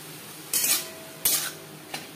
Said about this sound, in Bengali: পেঁয়াজও বেশ ভালো করে ভাজা হয়ে যাবে, চর্বিটাও মেল্ট হয়ে যাবে